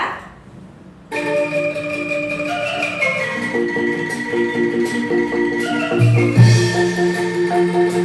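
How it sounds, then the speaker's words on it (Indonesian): An angklung, a set of Indonesian bamboo rattles, is shaken in sustained tremolo chords, a bright wooden clattering that shifts between pitches, loud and continuous after a brief quiet start. "itu adalah suara angklung yang digoyangkan."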